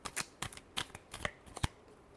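Tarot cards are shuffled and drawn by hand in a rapid series of crisp riffling flicks and soft slaps, about eight close, distinct bursts with no talk.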